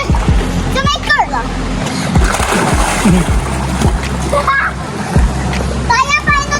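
Children swimming and splashing in a shallow river, with close splashes and sloshing water under frequent talk and children's voices, plus brief bursts of excited shouting.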